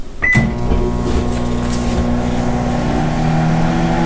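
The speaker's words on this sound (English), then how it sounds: "Put that into a microwave for about a minute and a half or two." A microwave oven starts heating a cup and a quarter of water: a sharp click and beep, then a loud, steady electrical hum with a rattling motor drone that holds on without pause, close and alone.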